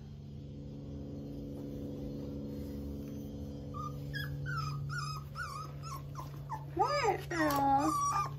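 Over a low engine hum, F1b standard goldendoodle puppies start whining and whimpering in high, wavering cries that grow louder and more insistent; a voice briefly speaks.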